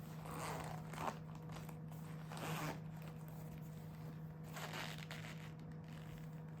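Several quiet zips run along the front pocket of a small natural leather shoulder waist bag, close and crisp in short strokes over a low steady hum, with no talk.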